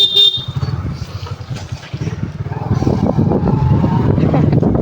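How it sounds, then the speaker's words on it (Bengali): Motorcycle engine running during a morning ride around a relative's village home, a steady close drone that grows louder and rougher in the second half, with wind buffeting and faint voices underneath. "মোটর সাইকেল নিয়ে উড়ার দরকার নাই"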